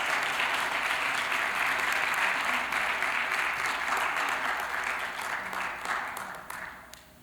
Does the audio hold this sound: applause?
yes